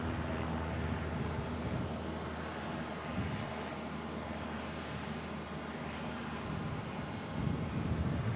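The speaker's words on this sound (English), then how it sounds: "I'm trying to get this little Cessna" A small Cessna propeller plane flying overhead near an airport, a steady broadband drone that holds fairly constant and swells slightly toward the end, distant and faint.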